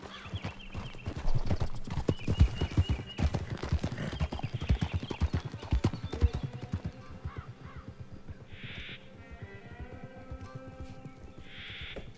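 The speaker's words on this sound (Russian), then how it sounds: "Ну что, красивый такой конь," Horse hooves clip-clop steadily on open ground in Red Dead Redemption 2, a close rhythmic trot that slows and fades, with crows cawing and brief whinnies later in the clip.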